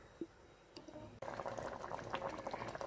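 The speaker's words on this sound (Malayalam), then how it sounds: "നല്ലതായിട്ട് തിളച്ച് വന്നിട്ടുണ്ട്." Chicken curry gravy for biryani comes to a boil in a pot, a faint quiet opening giving way to steady, dense bubbling and gurgling close by.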